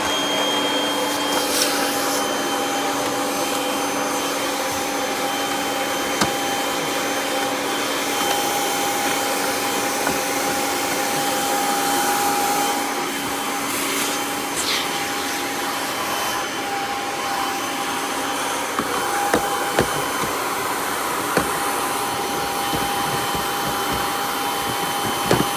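A Kirby Sentria G10D upright vacuum fitted with a bare floor tool runs continuously, a steady close whine and rushing airflow with occasional small clicks and knocks.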